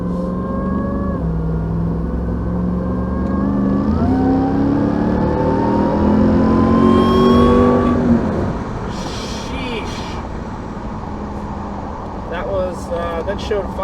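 A 2021 RAM 1500 TRX truck engine revs and pulls hard on the highway, the pitch climbing through gears, then easing to a cruising hum with road and wind noise and brief voices toward the end.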